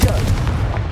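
A Confringo blast spell fired in Hogwarts Legacy, heard as a short, loud, punchy boom with a crackling low rumble that stays heavy to the end of the burst. No talking.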